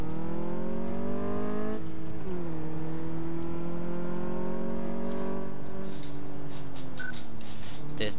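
Car engine in the Car Mechanic Simulator game revving hard through an acceleration test, with rising harmonic whine, a gear-change dip, then climbing again, loud and close, with faint clicks near the end.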